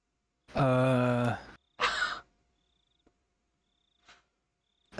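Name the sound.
person imitating a bear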